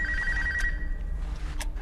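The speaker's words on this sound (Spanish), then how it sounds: "El tiempo del juego estaba a punto de finalizar y el teléfono sonó de nuevo." A telephone rings in a tense scene from the SAW story: a short electronic warble that fades, with a faint click, heard close and alone against a low background hum.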